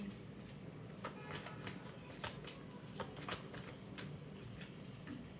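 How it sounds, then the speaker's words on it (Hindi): Tarot cards are shuffled close by, making a quiet, rapid riffling patter with short repeated flicks and no talking. "but I'll shuffle it one more time."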